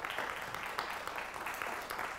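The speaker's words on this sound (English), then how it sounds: "how about a nice round of applause for the Hononegah Indians?" Faint, steady applause for the Hononegah Indians quiz bowl team, a soft wash of clapping from a smallish audience heard at a distance.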